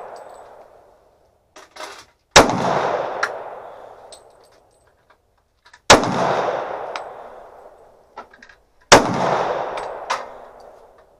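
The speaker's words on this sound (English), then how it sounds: "I'm gonna shoot my last five rounds" Smith & Wesson .40 caliber pistol fired at a shooting range, with three sharp, loud shots spaced a few seconds apart, each ringing out into a decaying echo, plus a few small clicks and clinks between them.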